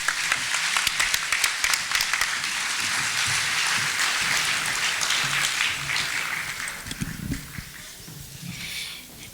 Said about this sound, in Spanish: un fuerte aplauso para todos